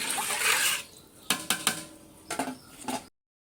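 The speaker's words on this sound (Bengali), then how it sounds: "এবার একটু নাড়াচাড়া দিয়ে সুন্দরভাবে ঢেকে দিব।" Spiced tehari rice stirred in a metal cooking pot, with a few sharp spoon scrapes and clinks against the pot, close and clear, then a brief settling before it stops.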